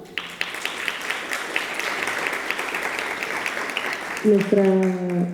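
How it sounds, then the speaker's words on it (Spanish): An audience at an engineering education panel discussion gives a moderate round of applause, individual claps distinct in a steady patter, before a voice begins speaking over the last second. "Por favor, un aplauso."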